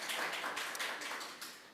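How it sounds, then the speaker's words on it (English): A crowd at a debate competition claps for the competing teams, a dense, steady patter of applause that stays fairly even before easing slightly, with no talking over it. "Give them a round of applause"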